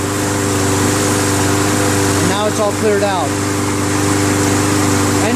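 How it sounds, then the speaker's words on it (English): A Troy-Bilt TB110 push lawn mower engine, recently cleared of hydrolock, idles smoothly with a steady mid-pitched drone while someone talks over it. "Engine runs so smooth"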